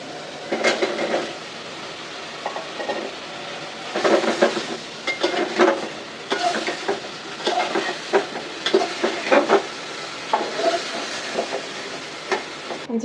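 Eggplant added to a pan with dried salted hilsa and spices, sizzling in bursts with stirring scrapes and clatters, steady background hiss throughout and no talking.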